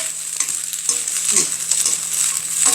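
Garlic scapes and shrimp stir-fried in a pan with a wooden spoon, a continuous close bright sizzle broken by soft scraping stir strokes, with no talk.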